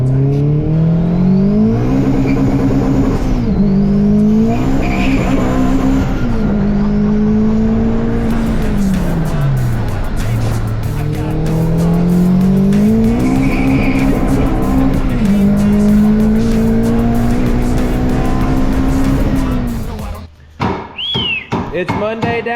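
A car with an improved exhaust revs hard and loud through repeated rising and falling sweeps, racing-style, before cutting off abruptly near the end.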